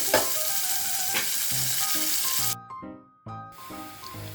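Ingredients for jeera uppittu sizzle and fry in a hot pan, with repeated scraping stirs and clinks of a spoon, loud and close, briefly dropping quiet before the sizzle resumes.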